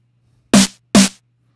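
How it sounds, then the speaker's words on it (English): Two short bit-crushed hits, likely drums, processed with the bit crusher pad effect in Cubase 15 Pro, each a punchy, gritty burst with a lo-fi digital edge, evenly spaced and heard alone over quiet background hum. "This bit crusher is really nice too."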